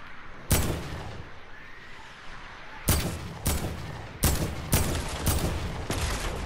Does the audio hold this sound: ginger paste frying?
no